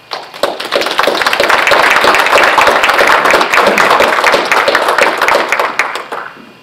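An audience at a winter lecture series applauds to welcome lecturer John McCabe, a loud, dense and steady clapping that fills the room for several seconds before tapering off.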